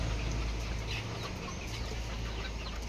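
Chickens cluck softly in the distance over a low rumbling background, a few scattered calls with no voices nearby.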